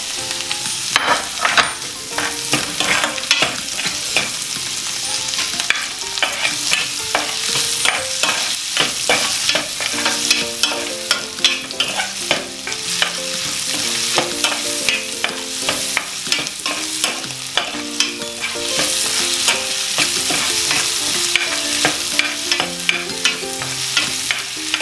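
Onions sautéing in a pan give a steady, close sizzle while a utensil scrapes and clatters against the pan in frequent irregular strokes, with no voices.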